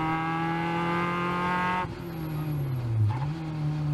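Caterham race cars at speed on a track, a loud engine note holding steady then shifting as the driver lifts, with a brief tire squeal and engine revving back up close by.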